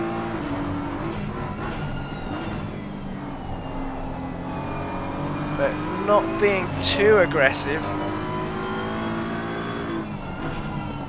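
Race cars battle closely around Watkins Glen in the Assetto Corsa Competizione sim, engines droning and revving with shifting pitch throughout, under a steady commentator's voice.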